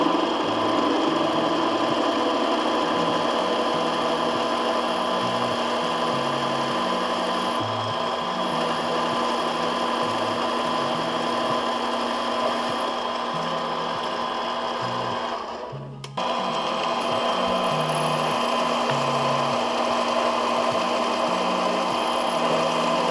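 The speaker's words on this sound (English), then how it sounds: "I'm gonna make some spacers on my lathe so that I can leave it up like that and tighten it straight down." A lathe machining aluminum spacers for a car's radiator support runs continuously and loud with a steady high mechanical whine and a fluttering cutting rasp, briefly dipping near the end before carrying on.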